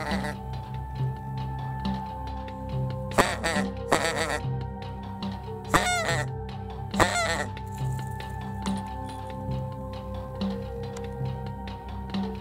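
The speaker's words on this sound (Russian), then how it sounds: "Стайки гусей начали тянуться на кормежку значительно позже, чем ожидал Сергей." Several greylag geese honk in short bursts over a steady low hum, flocks heading to feed in eastern Germany, the calls coming in clusters from a moderate distance with quiet gaps between.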